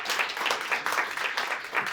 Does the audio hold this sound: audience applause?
yes